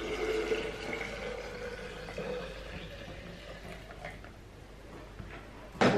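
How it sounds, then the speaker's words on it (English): Homemade juice poured into a jug, a quiet, steady trickle and slosh of liquid for several seconds, ending in a brief louder clunk. "I'm going to grab my jug and put in my juice."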